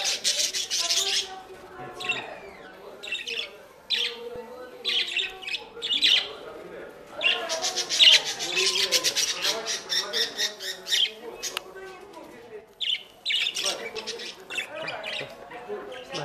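A large flock of parakeets at a contact petting zoo chirps and squawks up close in dense, overlapping bursts that carry on almost without a break, loud and busy, with a voice speaking briefly among them.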